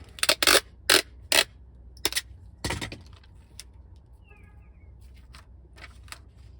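Trailer hitch template being cut out for a factory hitch install: several sharp broadband snips and crinkles in quick bursts early on, then sparse faint handling clicks and rustles, close and without talk.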